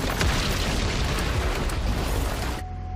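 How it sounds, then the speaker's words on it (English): A dense, roaring blast from a dryer exploding at a chemical plant fills the air steadily for nearly three seconds, then cuts off abruptly, leaving a faint hum. "The dryer catastrophically exploded."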